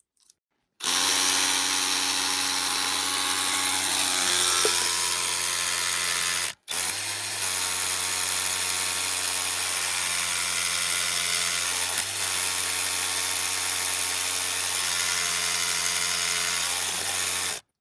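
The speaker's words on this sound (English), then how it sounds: "I will quickly demonstrate the difference in drilling between me holding it lightly with me putting force on it." A loud power drill whines steadily into rock while bolting a climbing route, cutting out briefly once and then grinding on with a slightly lower, labouring pitch.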